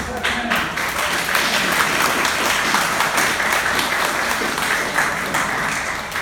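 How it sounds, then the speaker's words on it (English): Audience applause at a talk by multiple champion Robert Couzens at Nikkei Place, a steady dense wash of hand clapping that fills the whole stretch without pause. "Yeah, you Clap hands."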